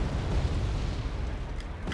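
Artillery shells exploding in the video game AirLand Battle: a dense, continuous roar of heavy booms and rumbling blasts, loud and close, with no talking over it.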